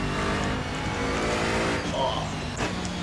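Bentley GT3 race car engine in Assetto Corsa on the Nordschleife, droning steadily while shifting from second into third, moderately loud under faint talk.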